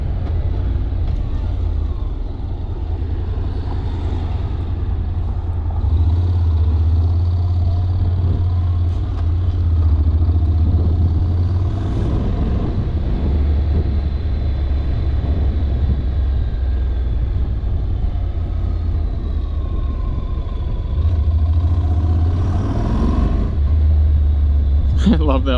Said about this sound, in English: I love that little rumble from the exhaust. It's just a little parallel twin